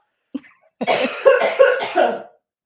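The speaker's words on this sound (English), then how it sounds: "I have to cough" A single person getting over a cold coughs close up: a small throat catch, then a burst of several harsh coughs, followed by silence.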